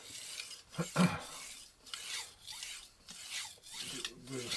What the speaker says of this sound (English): grind as much on this finer side, just to get to to refine the edge